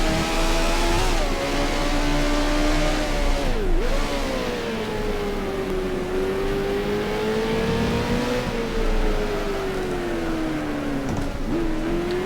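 Race car engine in F1 Challenge held at full throttle, a loud continuous high-pitched whine rising and dipping slightly with brief drops around gear changes, steady and close throughout.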